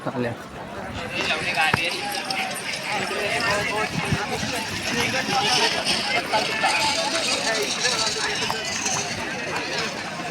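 Bulls' hooves clatter steadily on a hard road as they run past at a bull race, surrounded by a loud, continuous crowd babble.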